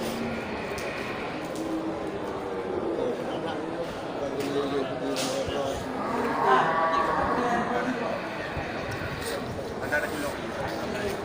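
Black male water buffalo and other livestock at a busy market, with low moos and animal noises mixed into crowd murmur while someone talks over them.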